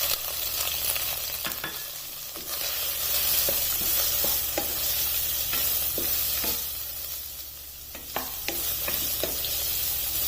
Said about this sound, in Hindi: इस गाजर को सिर्फ इसमें 1 से 2 मिनट तक सोते कर लेना है।